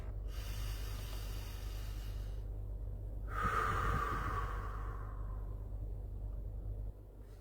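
A person takes a long, deep breath in through the nose, then a slow airy exhale, close to the microphone over a low steady background hum.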